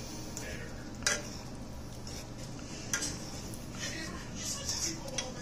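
Green beans with ham cubes stirred in a pot, a spoon scraping and clinking against the metal over a low background hiss, with a few sharper knocks.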